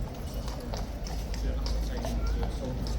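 Hooves of King's Guard horses clip-clop on the ground at Horse Guards as the mounted troop walks in, a steady loose rhythm of close hoof strikes under crowd murmur and voices.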